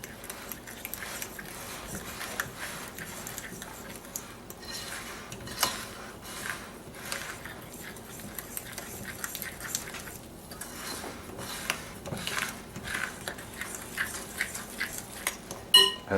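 Flour and beaten eggs stirred into bread dough in a bowl, giving soft scraping with faint clinks of utensil against the bowl, continuous and close with no voices.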